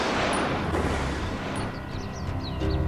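A firing squad's volley of gunshots rings out as a loud, broad blast that rolls into a dense, rumbling echo lasting a few seconds, with no voices over it.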